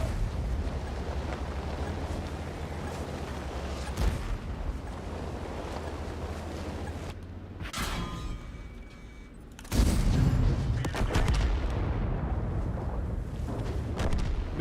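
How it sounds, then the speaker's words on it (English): Heavy artillery shells landing in World of Tanks, a dense rumbling barrage with several sharp blasts and a louder burst of impacts near the end, over steady battle noise. "I just put artillery on that guy."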